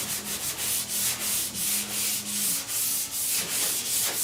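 Primer/surfacer block sanded on the rusty roof of a 1969 Chevrolet C10, with rust pits being filled, heard as close, loud, rhythmic rasping strokes repeating about twice a second with no talk.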